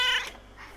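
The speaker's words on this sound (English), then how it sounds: "Hi, kitty!" A house cat greets someone with a short meow, fairly close and clear, a bright cry in the first third that fades into a soft, faint tail, with no talking over it.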